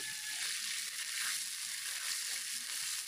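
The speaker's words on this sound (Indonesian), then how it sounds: "Aduk dan didihkan." Seasoning sauce stirred and brought to a boil in a pan after garlic has browned, giving a steady, close sizzling hiss with faint scraping of stirring throughout, no voices.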